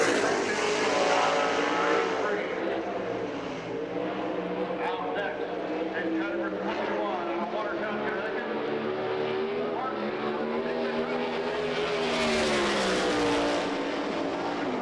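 A USAC Silver Crown Champ Car runs a lap on the Springfield Mile dirt oval, its engine a steady loud roar with rising and falling pitch as it passes, under continuous announcer commentary.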